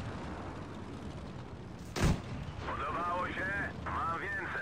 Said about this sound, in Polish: Ładny strzał w moim wykonaniu.